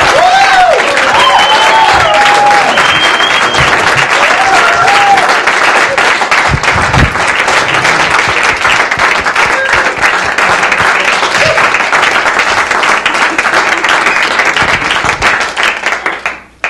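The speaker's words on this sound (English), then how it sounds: "A nice round of applause for Mr." Sustained loud audience applause and clapping for a comedian at a Boston comedy show, continuing steadily throughout before fading at the end.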